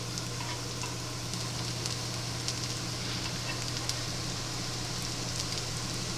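Rehydrated hash brown potatoes, seasoned only with salt, fry in a pan with a soft, even crackling sizzle throughout, faint and steady with no voices.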